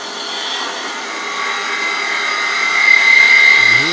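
A wood lathe spins a chess piece while a pointed 3/8 inch detail gouge cuts it, giving a steady, close, whining hum with a rising scrape near the end and no talking.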